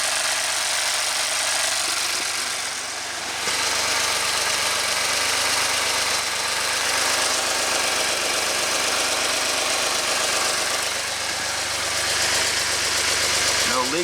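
A 2017 Ford Expedition engine with low power and low boost (fault P0299) idles steadily with a low, even rumble and a constant hiss, running close by without letup for the whole stretch.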